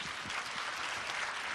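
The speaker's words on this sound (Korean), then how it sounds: "큰 박수로 맞이해주세요." Warm applause from a conference audience greeting guests arriving on stage, a brief, even patter of many hands clapping, moderately distant and without voices.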